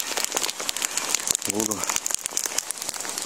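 Rain patters steadily on a tent or tarp in the April taiga, dense and crackling, with a voice briefly heard speaking near the middle.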